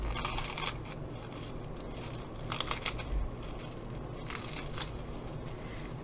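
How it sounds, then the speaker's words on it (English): Thin plastic wrapping from a Christmas tree cone craft is gently unwrapped close by, with quiet, irregular crinkling bursts separated by soft rustling pauses. No one speaks. "get the inside of the plastic, and just unwrap it"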